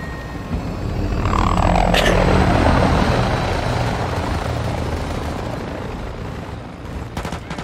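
Helicopter in Call of Duty: Modern Warfare II multiplayer, a loud close rotor roar that swells and holds, with faint gunfire in the background.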